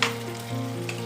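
Chicken curry cooked down in oil sizzles in a pan as it is stirred, a close, continuous frying hiss with a soft scrape of the spoon.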